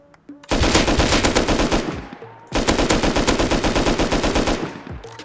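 Rapid bursts of automatic gunfire in the video game Rust, two long sustained volleys separated by a brief pause, loud and close with a harsh synthetic edge.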